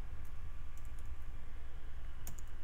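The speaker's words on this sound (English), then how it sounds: "I'm going to have to type Ruby" A computer keyboard on a Windows 7 PC gets a few scattered, light keystroke clicks over a steady background hum, close and fairly faint.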